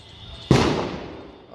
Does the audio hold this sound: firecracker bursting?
yes